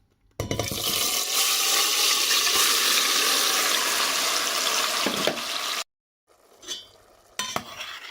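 Vegetables poured into hot palm oil give a loud, steady hiss and sizzle that starts abruptly and runs for several seconds, then cuts off, followed by a few faint clinks.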